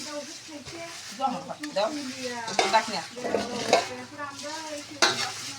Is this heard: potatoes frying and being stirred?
yes